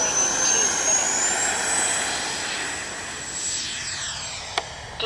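A Flyfans Su-27 twin 64mm electric ducted-fan RC jet flies overhead with a steady, loud whine that rises in pitch and then slowly fades as it passes, with a brief sharp click near the end.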